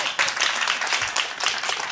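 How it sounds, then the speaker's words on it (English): Studio audience clapping at a live video game talk show, a dense burst of many hands applauding close and steady throughout, with no talk over it. "I'm not supposed to clap for you."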